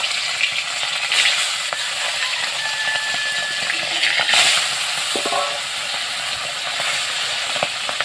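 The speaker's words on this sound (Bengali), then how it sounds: "মাছগুলো এবার ভেজে নেব" Fish rubbed with salt and turmeric fries in hot oil in a wok, giving a steady, close crackling sizzle with brief stirring scrapes and no voices.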